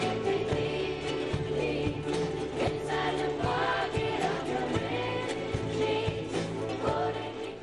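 More than a thousand children strum ukuleles and sing a song together in Dunedin, a dense, steady mass of voices and strummed chords at moderate level.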